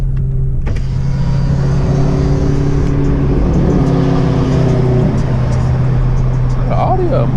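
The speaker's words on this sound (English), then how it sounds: "It's an Audi, man. Sounding like that." Audi car engine running loud and close with a steady low drone and a building rev, people talking over it.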